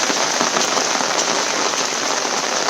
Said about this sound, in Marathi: आज पाऊस पूर्ण थांबणार नाही